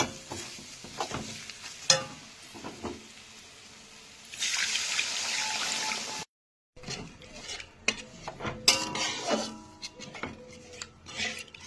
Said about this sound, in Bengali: এই পজিশনে আমি এবার জল দিয়ে দেবো।